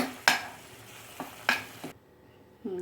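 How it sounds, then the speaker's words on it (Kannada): Masala for rajma fries in a pan with a quiet sizzle, broken by a few sharp scraping stirs of a spatula, then the pan goes almost silent with a faint last scrape. "ಅಲ್ಲಿವರೆಗೂ ಒಂದು ಸ್ವಲ್ಪ ಫ್ರೈ ಮಾಡೋಣ ಅದನ್ನು"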